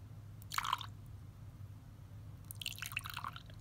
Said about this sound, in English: Just pour a little bit in at a time